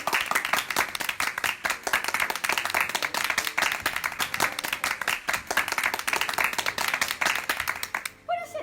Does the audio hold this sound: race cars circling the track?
no